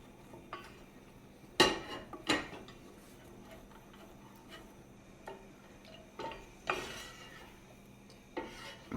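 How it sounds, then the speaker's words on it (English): A spoon stirs cornstarch thickener into a cake-filling mixture in a pot, giving a few sharp clinks against the side and soft scraping between them, all at close range with no voices. "And you're just going to stir that"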